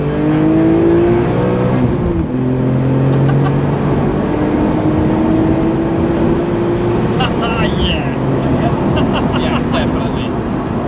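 Sports car with an SMG automated gearbox revving hard, a loud, continuous engine drone rising in pitch with sharp breaks where gears shift, running steadily throughout.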